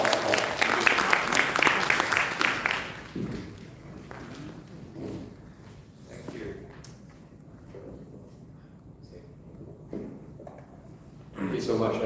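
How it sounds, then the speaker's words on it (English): Audience applause at a report launch event on haze pollution, loud for the first few seconds, then tapering into scattered claps while a speaker begins talking, with a brief swell again at the end. "Let's give a round of applause."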